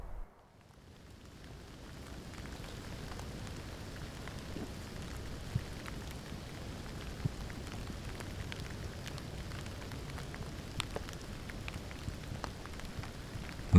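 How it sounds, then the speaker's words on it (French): Steady rain falls and patters on surfaces outdoors, a soft, even hiss with scattered louder drops, fading in at the start and continuing alone with no voices. "Marcher sous la pluie"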